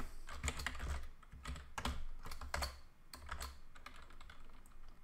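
Code being typed on a computer keyboard, bursts of rapid key clicks with short pauses between them, close and fairly quiet with no voice.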